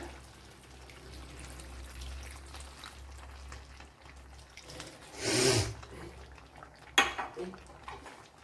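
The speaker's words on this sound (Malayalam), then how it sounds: "ഇനി കുറച്ച് വെള്ളം ഒഴിച്ചു കൊടുക്കുക." Hot water is poured into a pan of chicken curry with small onions, giving one brief, loud rushing splash amid quiet clinks of pots and utensils.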